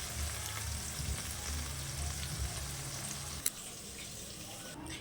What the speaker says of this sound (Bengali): আমি মশলাটা কষাচ্ছি